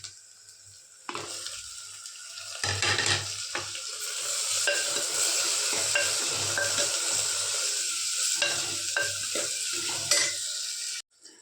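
Tomatoes stirred and fried in a pan while cooking jackfruit kuzhambu, a steady sizzle with scraping stirs and watery bubbling running throughout, close and fairly loud, no talking.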